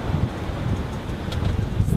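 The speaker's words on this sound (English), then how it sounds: "Today is a very windy day." Strong wind roaring across a sailboat on the open Atlantic in about 20 knots, with steady gusty rumble and microphone buffeting throughout, no talking.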